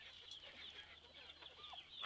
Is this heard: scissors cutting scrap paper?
no